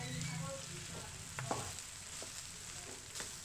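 Cooked rice and two fried eggs stirred together in a hot pan for egg fried rice, a steady low sizzle with a few scraping spatula knocks, fairly quiet and close, no voices.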